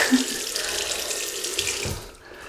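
A water tap runs into a sink for rinsing a vintage Wilkinson Sword double-edge razor, a steady close splashing stream that cuts off near the end.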